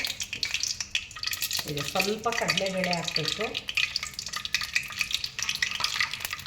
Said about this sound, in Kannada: ಎಣ್ಣೆ ಕಾಯ್ತಾ ಇದ್ದಾಗ ಸ್ವಲ್ಪ ಕಡಲೆಬೇಳೆ ಹಾಕಬೇಕು